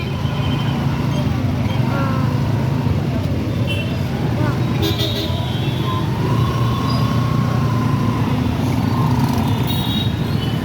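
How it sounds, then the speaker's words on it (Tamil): Heavy traffic jam on a city street near Marina Beach in Chennai, a loud, continuous rumble of idling and crawling buses, cars and trucks with scattered horns and a hiss of air brakes, filling the whole stretch. "சரியான டிராஃபிக் ஜாமு."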